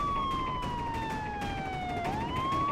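A police siren wails steadily, its pitch slowly falling then sweeping back up, loud and continuous over background noise.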